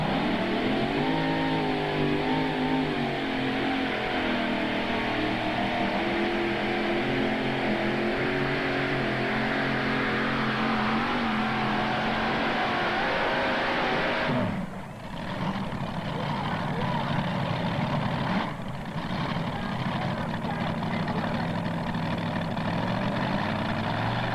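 A drag racing car launches down the strip at a 1995 Turkey Day event in Imlay City, Michigan, a loud sustained engine roar that fills the scene, dropping briefly twice partway through.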